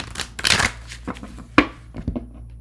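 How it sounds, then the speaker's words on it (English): A deck of tarot cards is shuffled by hand at close range, giving quick riffling bursts and soft taps, faint in a quiet room. "Shuffle, shuffle, shuffle."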